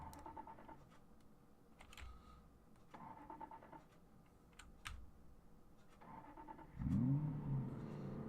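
A car engine in the video game Project Zomboid cranks and starts near the end, a low rising rumble after faint clicking and keyboard taps, quiet and without talk.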